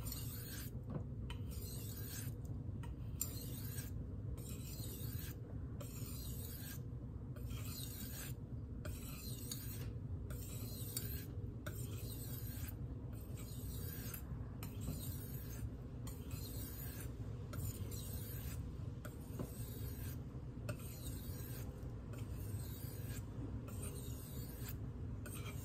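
A good-quality chef's knife drawn again and again across Arkansas sharpening stones, a steady, close rasping scrape that keeps up continuously in a regular stroking rhythm, with no talking.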